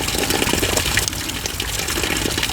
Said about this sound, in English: that water that's coming out of there is coming out because the outflow from my fish pond actually ends up in here